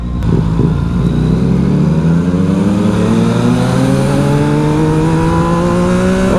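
Yamaha XSR 900 motorcycle with a full Akrapovic twin-pipe exhaust revs hard and climbs through the gears, its loud, rising engine note very close and filling the whole stretch without any talk.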